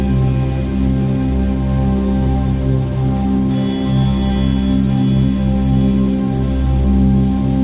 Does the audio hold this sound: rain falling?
yes